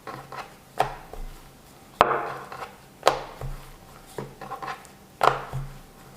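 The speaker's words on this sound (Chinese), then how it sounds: "擀成圆形薄饼状" Rested leavened dough pieces are pressed flat and rolled into round thin cakes with a rolling pin for soft, layered flatbread. A handful of sharp, close knocks and thumps on the board land at irregular intervals, with no talking.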